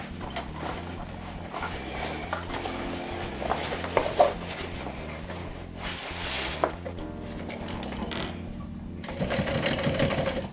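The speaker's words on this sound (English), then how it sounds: "we're going to stitch along this edge" A sewing machine stitches along the edge of a small backpack's side panel, running steadily and close up from start to finish, with a brief pause and a louder burst near the end.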